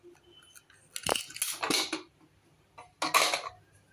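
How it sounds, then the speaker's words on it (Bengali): A pressure cooker holding boiled giant arum root and potatoes is opened with a few sharp metallic clanks and rattles of the lid. The bursts are separated by near silence, and the last clatter is the loudest. "এবার আমি ঢাকনাটা খুলছি"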